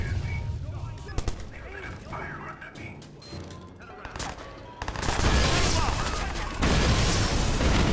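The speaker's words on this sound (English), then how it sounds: "Toss a nade over there." A grenade blast and gunfire in Watch Dogs, scattered shots and thumps followed by a loud, sustained roar of explosion and firing, with voices heard.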